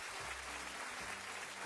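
An audience applauding a card trick, a faint, even patter of many hands clapping, with a low voice murmuring underneath.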